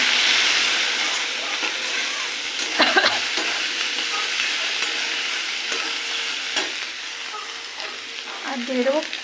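Banana flower sautés in a pan with green chilli, salt, turmeric, roasted cumin powder and a little chilli powder. The sizzle is steady and soft, with occasional spatula scrapes and stirring clatters.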